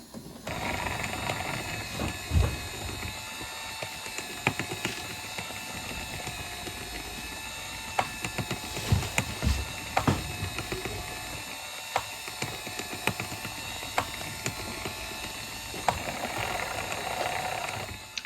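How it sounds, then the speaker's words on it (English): Left drive motor of a homemade K9 robot runs steadily, a whirring mechanical drone with ratcheting gear clicks and occasional knocks throughout, close and moderately loud with no voices. "So that's the left motor working."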